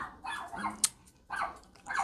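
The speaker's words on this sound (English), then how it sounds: "I apologize if you hear my familiar barking in the background." A dog barks in the background indoors, a few short muffled barks and yips in quick succession at moderate distance, with no talking over them.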